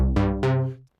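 A riffing synth patch played completely dry, two bright plucked notes in quick succession with sharp attacks that cut off abruptly into silence, close and clean, no talking.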